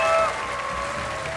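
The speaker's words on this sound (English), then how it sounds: "Please give him a big round of applause." An audience at a Gran Turismo world series motorsport event in London applauds briefly, a short burst of clapping that swells at the start and then thins out.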